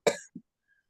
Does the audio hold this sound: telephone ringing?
no